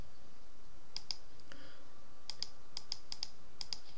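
Sharp computer mouse clicks while burning a Windows 8.1 ISO file to CD/DVD, occurring in quick pairs and singles over a quiet hum, fairly close and crisp, with no talking.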